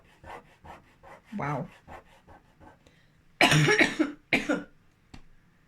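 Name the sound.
coughing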